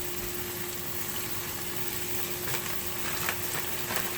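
Oscar Mayer hardwood-smoked bacon frying in a pan for bacon double cheeseburgers, a steady close sizzle and crackle with a faint hum beneath and no talking.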